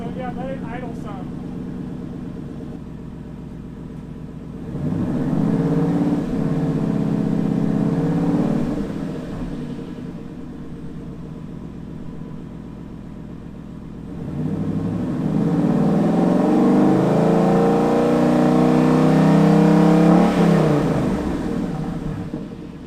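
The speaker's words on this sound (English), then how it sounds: "get some decibel readings to see how loud the car is while driving at various RPMs and driving styles" A 2013 Ford Mustang Boss 302 with its side pipe restrictor plates removed revs hard twice, each loud, throaty climb rising and then falling back to a rumbling idle, with a voice briefly heard near the start.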